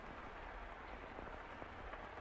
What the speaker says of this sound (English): The rain just won't let up.